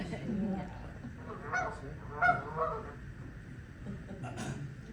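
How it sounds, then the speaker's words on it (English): Canada geese honk in scattered, moderately distant calls over a steady outdoor background, with a few louder honks standing out. "So, Canada geese, we know what they sound like, right?"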